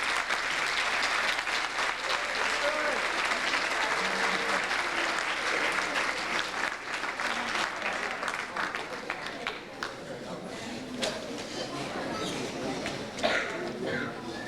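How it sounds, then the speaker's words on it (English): A large crowd at a high school National Honor Society ceremony applauds continuously, dense steady clapping that holds for the whole stretch with a few cheers mixed in. "Big round of applause, please."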